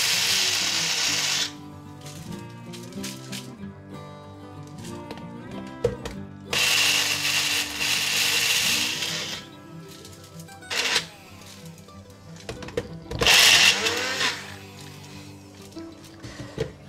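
A blender whirs in several loud bursts, starting and stopping repeatedly with short pauses and clattering between runs.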